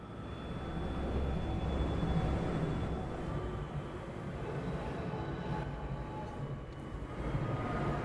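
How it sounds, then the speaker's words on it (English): A train passing in the video game Apex Legends, a continuous broad rumbling roar that swells and holds steady for several seconds. "Train, right here."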